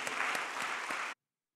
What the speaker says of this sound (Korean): 은혜 주신 하나님께 영광의 박수를 주세요.